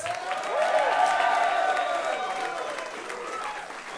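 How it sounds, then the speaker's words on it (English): Audience applauding at a live concert at Ardmore Music Hall, dense steady clapping with some cheering, rising quickly and then gradually fading over a few seconds. "Please put your hands together one more time"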